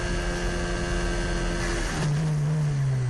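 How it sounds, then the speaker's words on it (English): A high-revving racing car engine, heard onboard at Abu Dhabi, drones steadily, then its pitch abruptly drops and changes character partway through as the engine fails. "Oh, that's one engine down."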